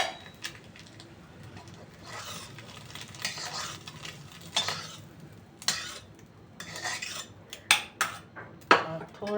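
A metal utensil scrapes and clinks against a pan as a fried egg is lifted out, over a faint sizzle of oil, with sharper knocks toward the end.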